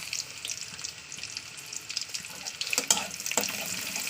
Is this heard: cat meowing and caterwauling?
no